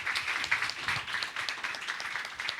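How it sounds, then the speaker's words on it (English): An audience at a live kids' competition event claims, a short burst of steady applause heard at a moderate distance with no talk over it. "Please, and another round of applause."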